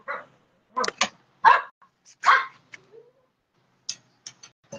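A dog barks in a few sharp, close bursts with quiet gaps between them, followed by fainter yips at the end.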